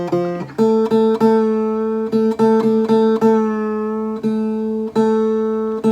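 A repaired vintage guitar with a formerly broken neck, tuned to D standard, rings out in strummed chords and picked notes with a clear, sustaining tone and steady rhythmic attacks, close and loud, with no talking.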